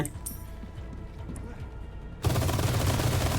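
Gunfire in the video game Resident Evil 4 Remake, a dense burst of rapid shots that suddenly swells loud and sustained partway through, following a quieter stretch of scattered noises with talk.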